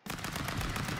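Rapid gunfire in the video game Stick Fight, a dense, loud burst of quick shots lasting about a second and starting abruptly.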